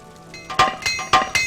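Apprentice Armorer's Hammer in use in Morrowind, a few sharp metallic clinks and taps struck in quick succession, close and clear with no talk.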